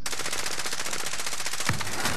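Rapid automatic gunfire in a team shooter video game rattles on continuously, loud and close, as a dense unbroken burst.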